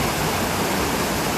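Rain-swollen stream in the Hollywood Hills rushing steadily, a dense broadband wash of flowing water, close and continuous with no voices.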